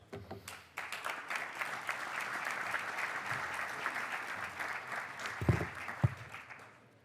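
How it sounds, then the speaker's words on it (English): Audience applauding at a Barcelona institutional welcome session as the Chamber of Commerce president is introduced: a steady, fairly quiet wash of many clapping hands, slightly distant, with a few sharper claps near the end. "Please give him a big applause."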